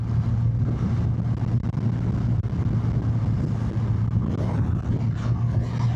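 A restored barn-find BMW K100 motorcycle engine runs steadily at idle, a constant low droning hum with a strong steady low tone throughout, close and loud with no pauses.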